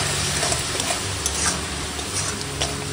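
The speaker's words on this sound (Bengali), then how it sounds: "আমি এখন দিয়ে দিচ্ছি চিনি, আর দিয়ে দেবো ভাজা মশলা, দিয়ে সুন্দর করে মিশিয়ে নেবো" Sugar and fried spices are stirred into a cooking pot over steady, loud frying, with a continuous close sizzle and occasional scrapes of the spoon, and no voices.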